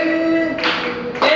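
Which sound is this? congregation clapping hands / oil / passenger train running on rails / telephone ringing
congregation clapping hands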